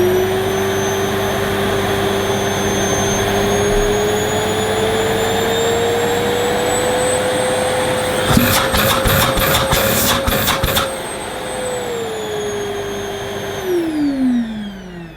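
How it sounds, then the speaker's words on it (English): A Hoover Eco-G bagged vacuum cleaner running on its minimum setting gives a steady, loud whining motor drone with airy rush. Its pitch creeps upward, a burst of rapid rattling knocks cuts in midway, and then the tone drops. "let's plug in this Hoover Eco-G, and I'll actually be able to see what the suction's like using my new suction gauge"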